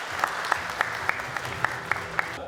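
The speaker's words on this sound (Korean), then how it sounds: "함께 하신 분들 박수로 응원 부탁드리겠습니다" An audience applauds at a signing ceremony for an island development agreement, a dense burst of clapping with a few sharper claps at a regular beat.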